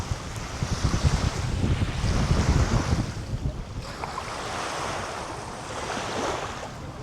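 Strong wind blows across Bitez beach in Bodrum, buffeting loudly and roaring in gusts with surf washing in behind it, the rush strongest early and easing slightly later.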